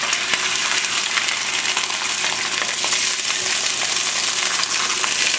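Fish fillets fry skin side down in a hot pan, giving a loud, continuous crackling sizzle with scattered pops throughout.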